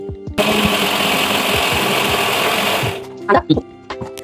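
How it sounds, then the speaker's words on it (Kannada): A kitchen mixer grinder blends green chutney with salt for homemade vada pav. Its loud, steady whirring drone runs for a few seconds under a talking voice, then cuts off and the voice goes on alone. "ಇವಾಗ ಇದನ್ನ ಮಿಕ್ಸಿ ಮಾಡ್ಕೊಂಡ್ ಬನ್ನಿ"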